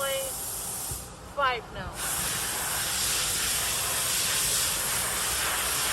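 Compressed air hisses steadily from the compressor connector of a semi-automatic twin cartridge sticker labeling machine. The hiss is loud and continuous and close by, after a brief pause and a short spoken phrase.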